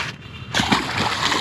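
A caught fish is slid over a ramp back into the water at a spillway at Fort Wilderness Campground, Walt Disney World; a sudden close, loud splash and sloshing begins halfway through, after near silence.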